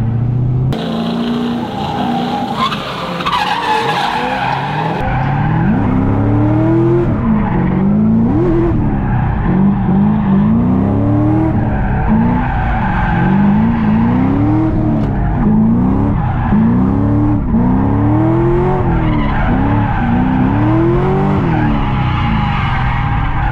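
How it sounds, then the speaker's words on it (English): A C6 Corvette drifts with loud, continuous tire squeal and skidding, the engine revs rising and falling in repeated swells as the car slides through the corners. "we should be drifting Corvettes in America"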